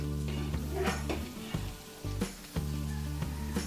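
Onions sautéing in a large pot for a big batch of kaldereta, with a steady frying hiss and several sharp stirring clanks of a utensil against the metal, a low hum running underneath.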